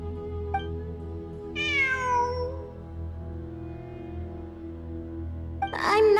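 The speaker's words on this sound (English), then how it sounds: "I'm not hearing things. It really is a cat." A cat in the Genshin Impact video game meows twice, one longer drawn-out meow early and a sharper cry at the end, clear and close over a steady low musical drone.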